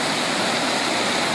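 The Cascata Antônio Monteiro waterfall at Pocinhos roars loudly and steadily as water pours over rocks, heard up close with no talking.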